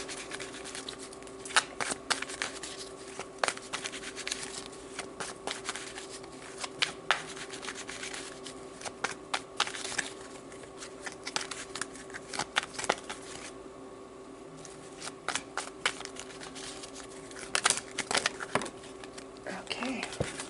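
A deck of tarot cards being shuffled by hand, with repeated soft riffling and patting bursts over about twenty seconds at a close, moderate level, alone with no talk and a steady faint background hum.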